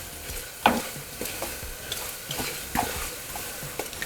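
Masale bhat ingredients roasting in a pan over high heat, with irregular light spatula scrapes and taps over a quiet, continuous sizzle.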